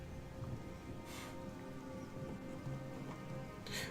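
Rain falls in the video game Gothic 2: a soft, steady patter of raindrops, with two brief swelling hisses of heavier downpour.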